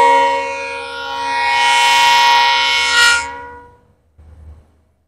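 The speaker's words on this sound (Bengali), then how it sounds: "এবার আমাদের সাথে যে ট্রেনে দেখা হবে ট্রেন নাম্বার হলো 13175 শিয়ালদা শৈলচর কাঞ্চনজঙ্ঘা এক্সপ্রেস।" A long, loud horn blast from the Sealdah–Silchar Kanchanjunga Express (train 13175), sustained with rich harmonics for about three seconds, then cutting off, with a brief burst of rumbling train noise afterward.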